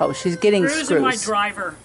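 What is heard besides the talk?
No everyday noises stand out.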